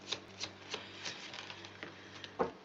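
Deck of Jesus cards being shuffled close up, a quiet run of soft riffling flicks and snaps at an uneven rhythm, ending with a sharper slap.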